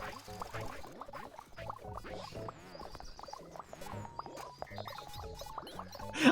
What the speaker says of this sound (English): I think that's the sound of wool growing.